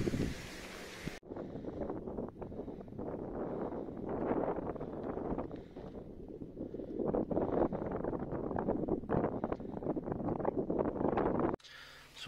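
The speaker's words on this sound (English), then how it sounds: "because otherwise it's too windy and you can't record any voice" Strong wind at a lake in Montana roars across the microphone, a continuous gusting rush with buffeting that swells and dips for several seconds, heard alone with no voices.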